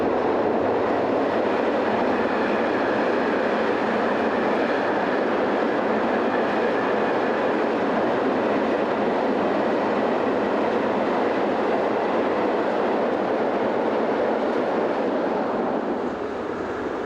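Shortlines locomotive 2001 hauls a long southbound container train, a loud steady rumble of wheels and wagons rolling past close by with faint clickety-clack throughout.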